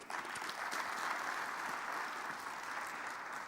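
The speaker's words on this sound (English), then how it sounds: "A round of applause for Amanda." Steady applause from a seated audience at a youth workforce event fills the room evenly for several seconds, a dense, distant-sounding patter of many hands with no talking over it.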